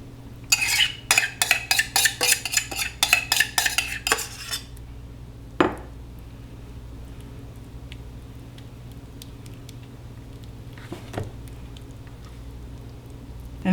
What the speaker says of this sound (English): We're going to put the pineapple in the bottom of the pie crust and just